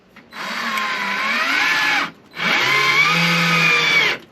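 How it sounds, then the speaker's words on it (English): A power drill drives a screw to fix a water pump into a camper van kitchenette, whirring steadily in two close bursts with a short pause between them. "So let's get that screwed in and then get the hose attached to the pump."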